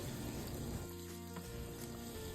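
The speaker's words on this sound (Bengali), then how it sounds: "আমরা এর মধ্যে কুচি করে রাখা শাকটাকে দিয়ে দেব শাক দিয়ে খুব ভালো করে আমাদের একটু কষতে হবে" Chopped spinach sizzling steadily in a hot pan with cumin and ginger, a dense continuous frying hiss with faint stirring, for dal palak.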